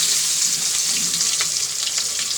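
Bay leaf and cumin seeds frying in hot oil while cooking fish with potato and onion, giving a steady, close, bright sizzle with faint crackles throughout and no voices.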